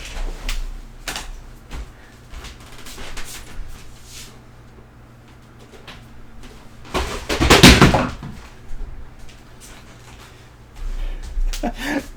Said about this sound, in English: Knocking things over.